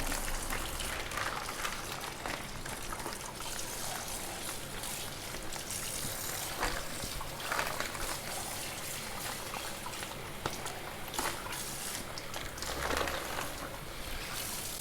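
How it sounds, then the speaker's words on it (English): Running water pours and splashes over pork bellies being washed for smoked bacon, a continuous hissing trickle and gush with irregular splatters throughout, fairly close. "you want to wash the bellies"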